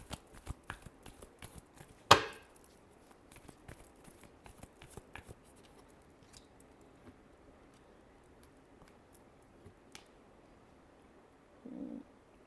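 Tarot cards being shuffled by hand, with one sharp riffling burst followed by soft, scattered card taps and rustles, fairly quiet and close.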